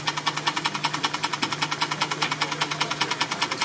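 A miniature steam engine driving a small machine shop with lathe, mill, shaper, drill press and table saw chugs in a fast, even rhythmic beat, close and steady throughout with no voices.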